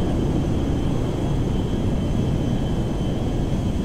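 An airplane climbs higher in Grand Theft Auto 5, its engine a steady, dense drone that holds at an even loudness throughout with no pauses.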